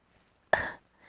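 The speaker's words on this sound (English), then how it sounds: "I'm sorry for coughing in your ear." A single short, soft cough or throat-clear, close and quiet, in an otherwise near-silent moment.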